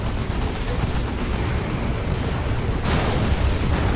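Explosions from a Rocket Run attack in the video game Dawn of War 2, a dense continuous roar of blasts that swells louder near the end.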